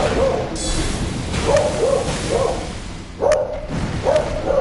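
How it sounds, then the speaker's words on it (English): A dog in the game Elden Ring Shadow of the Erdtree barks several times in short repeated yaps, loud and close, amid whooshing combat sounds. "there's dog bark"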